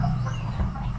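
A rooster on a farm gives a single short crow, close and fairly loud, over steady low background noise.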